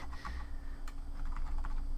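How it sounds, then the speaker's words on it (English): Computer keyboard being typed on during a DOS keyboard test, a run of quick uneven key clicks close up over a steady low hum, with no voices. "Keyboard. Please type."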